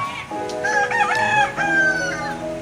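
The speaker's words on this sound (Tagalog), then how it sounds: "may manok din dyan o, ayan o, manok na pula" A red rooster crows loudly and close by near a river, a drawn-out cock-a-doodle-doo call standing out over faint background noise.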